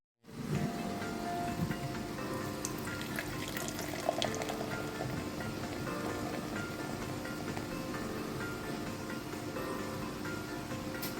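Ale pouring steadily into a glass, a continuous liquid splash and gurgle held at even loudness throughout.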